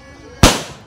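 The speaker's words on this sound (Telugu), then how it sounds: "చాలా అంటే చాలా బాంబులు పక్క నుంచి వదులుతున్నారు" A single firecracker bursts nearby during Nagula Chavithi festivities, one sharp loud bang that quickly decays into a short echoing tail.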